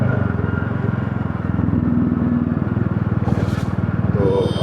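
A motorcycle engine thrums steadily and close, a continuous low rumble with faint rattling during a cold-weather commute, with no talk over it.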